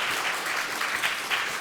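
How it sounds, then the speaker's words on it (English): An audience claps to welcome a speaker, a moderate wash of hands with slight swells, heard alone at low level for a short stretch. "Give him a round of applause, people."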